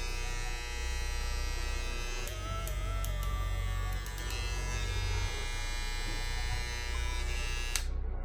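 Stylecraft Saber 2 hair clipper running steadily, a close, continuous motor buzz with a strong low hum and occasional faint clicks, heard alone for several seconds before switching off.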